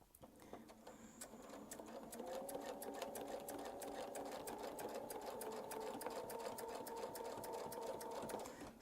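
A sewing machine stitches a quilt with a curved ruler template, its needle clattering in a fast, steady rhythm close by, with a continuous motor hum carrying through most of the stretch.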